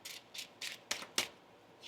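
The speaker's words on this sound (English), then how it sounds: "One more shuffle." A deck of tarot cards is shuffled by hand in a quiet room, giving five short, soft riffling bursts in steady succession, close and faint.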